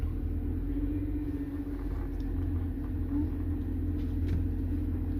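A Mercedes-Benz E320 engine idles just after starting, a steady low rumble with a faint hum, running evenly and fairly quietly throughout.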